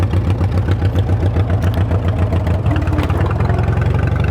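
An old vehicle on big wheels idles in neutral, a loud, steady mid-low engine rumble with an even pulsing beat, close up, with no talking.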